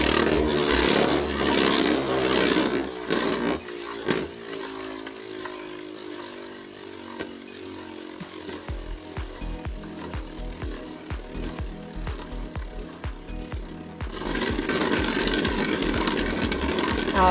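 A Beyblade Burst God Valkyrie 6V.Rb spinning top whirs in a stadium with a loud, steady rattling buzz. It fades midway into quieter clicking taps as it slows, then a loud whir starts again.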